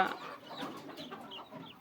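Free-range hens with newly hatched chicks cluck softly and intermittently, quiet and close, in short, irregular bursts.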